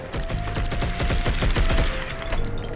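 Rapid bursts of gunfire in the video game Blood and Bacon, a dense rattling fusillade of repeated shots that runs continuously and loudly across the whole stretch.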